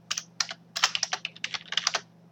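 Rapid keystrokes on a computer keyboard, clicking in uneven bursts of several taps, close and clear with no talking.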